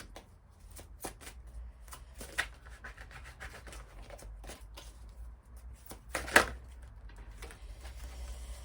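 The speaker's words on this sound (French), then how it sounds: "on va quand même prendre une carte de l'oracle Joyeux Noël" Oracle cards are shuffled by hand in a series of soft, quick riffles and taps, faint and close. A sharper snap comes near the end, and no one speaks.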